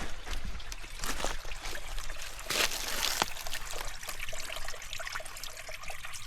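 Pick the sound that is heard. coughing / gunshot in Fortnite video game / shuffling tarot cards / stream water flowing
stream water flowing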